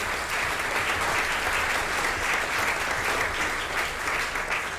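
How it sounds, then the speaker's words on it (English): Steady, dense audience applause fills a fundraising gala evening, continuous and fairly loud throughout with no talk over it. "give a big round of applause right back there"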